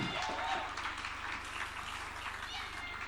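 Audience applause and clapping at a panel session on gender-based discrimination, a steady, moderately loud patter of many hands that fades slightly over time, with a voice speaking over it.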